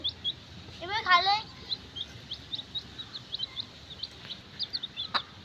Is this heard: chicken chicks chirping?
yes